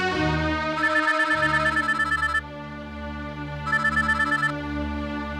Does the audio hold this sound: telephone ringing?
yes